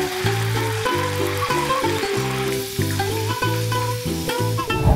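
Soaked, dried, peeled fava beans frying in oil at 170 degrees, a steady close sizzle that runs throughout with no voices. A tonal music bed plays underneath.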